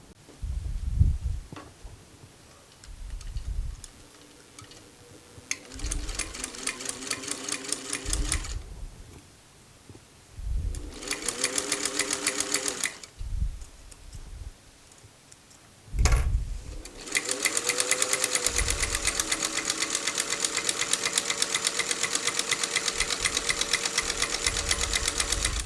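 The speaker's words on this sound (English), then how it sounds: "jump on my buttonholer, and again, I do have another video explaining my buttonholer, which is a fabulous antique machine" Antique buttonholer attachment on a sewing machine stitching a buttonhole, fast rhythmic mechanical whirring and ticking in repeated bursts separated by short pauses, close and steady, with some runs lasting several seconds.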